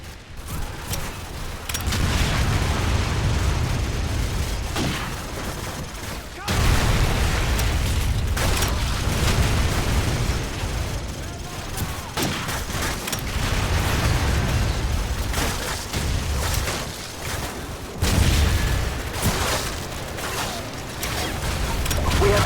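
Detonators set off in a tavern during Call of Duty 4: Modern Warfare gameplay unleash heavy booming blasts and rumbling bursts, one rolling into the next amid battle noise over about twenty seconds.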